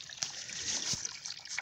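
Water trickles and splashes softly as it is collected from a spring near a lake early in the morning, a faint, close dribble with small splatters.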